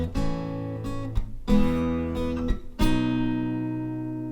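Acoustic guitar strums a song's chord progression, with several ringing chords changing at a steady pace, each sustained and fading, played alone without voices.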